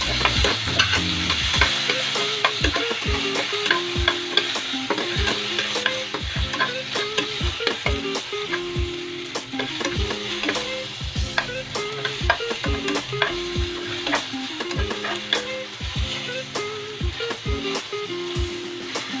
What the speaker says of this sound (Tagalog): ilalagay na po natin yung kamatis para maluto na po siya